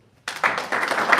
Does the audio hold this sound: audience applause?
yes